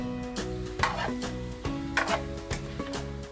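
Pork leg seasoned with fish sauce and black pepper is stirred in a pan, with soft sizzling and a few sharp scrapes and clacks of a utensil, close and fairly quiet.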